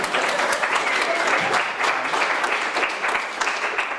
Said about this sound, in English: I don't think that merits applause